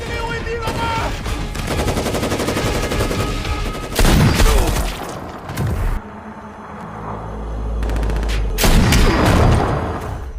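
Loud, dense bursts of automatic gunfire and single shots crack through a movie firefight on an island of dangerous criminals, layered with rumbling booms and film score, with a narrator talking over parts of it.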